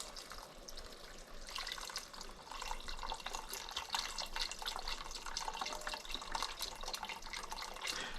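Broth poured into a pot on the stove after browning, a steady liquid splashing and trickling that starts softly and swells after a couple of seconds, continuing without talk.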